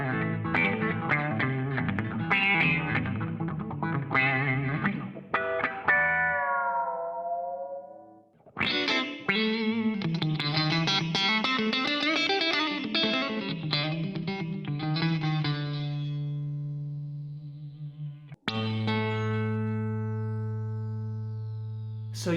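Electric guitar through a Wampler Terraform envelope filter with the rate turned all the way up, quick picked phrases and chords with the highs swept and filtered, broken by brief gaps and closing on long sustained ringing chords.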